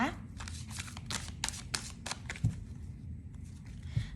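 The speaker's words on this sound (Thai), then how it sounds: "ขออนุญาตสับไพ่สักครู่นะคะ" Tarot cards are shuffled up close in quick, crisp riffles and flicks, giving a steady papery patter with a few sharper taps.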